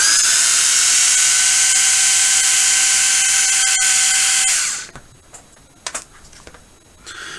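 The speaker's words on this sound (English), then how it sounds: "pull these bottom screws out here" A power tool runs steadily and loudly for about four and a half seconds while backing out the bottom axle screws during a sway bar install on a B50 KAOS, then cuts off, leaving light clicks and handling noises.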